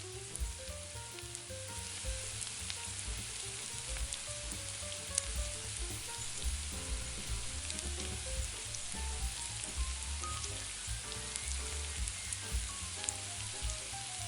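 Chopped peppers added to softened onions sizzle and fry in a pan, a steady close crackling with scattered sharp pops and no talking.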